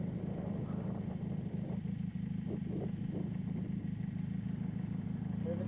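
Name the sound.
2000 Honda Magna 750 motorcycle riding in first gear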